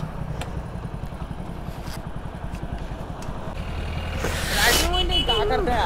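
A motorcycle rumbles along a village road, its engine a steady low putter throughout, swelling slightly louder toward the end as other noise rises over it.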